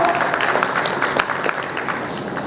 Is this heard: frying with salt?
no